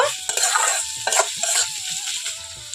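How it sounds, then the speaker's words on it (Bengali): Chopped ginger and garlic sizzling in hot oil, close spoon stirs scraping the pan in short uneven strokes with a steady frying hiss beneath. "এখন দিয়ে দেব আদা রসুন কুচি সবগুলো উপকরণ খুব ভালোভাবে এখানে ভেজে নেব"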